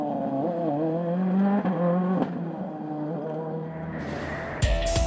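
A rally car on snow tyres at the Monte Carlo WRC round passes close by, its engine note climbing and falling as it shifts through the gears. The sound ends in a sharp burst of gravel or crunch.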